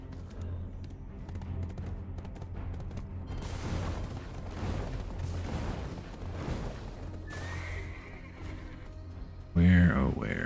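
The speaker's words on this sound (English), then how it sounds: "I heard the horse somewhere over there" A horse neighs in the online game Black Desert Online amid clip-clop and creaking game sounds, with a clear whinny near the end and a voice talking over the scene.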